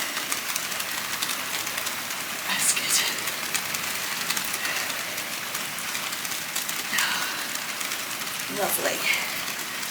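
Heavy rain pours steadily throughout an outdoor storm workout, a dense continuous hiss with brief louder gusts of spatter, while a person speaks a few short words over it.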